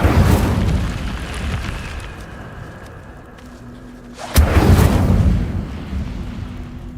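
Incendio fire spell cast in the Hogwarts Legacy video game, a sudden loud whooshing burst of flame that roars and slowly fades over a steady rumbling game background.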